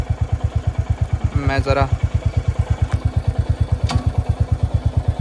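A Hunter 350 motorcycle idles close by in a steady, even low thump, with a voice talking over it briefly.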